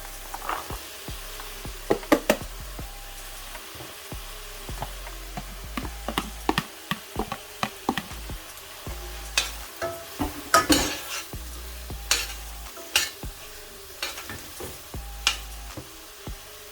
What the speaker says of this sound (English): let this saute for about 2 to 3 minutes to get those flavors nice and infused in there with that sauce and the oil